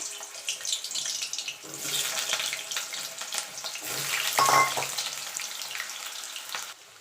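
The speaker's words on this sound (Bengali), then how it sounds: "দেখুন বন্ধুরা তেলটা গরম হয়ে গেছে এবার আলুটা আমি দিয়ে দেবো" Potatoes for a vegetarian cauliflower-and-potato dish drop into hot oil in a wok, a steady broadband sizzle that swells briefly midway with a watery, hissing texture, with no voices.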